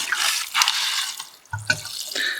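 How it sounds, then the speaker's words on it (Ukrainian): A watering can pours water over grass packed in a sack, giving a splashing, gurgling stream that breaks briefly and then resumes, close by. "потім беремо поливалку з водою та поливаємо"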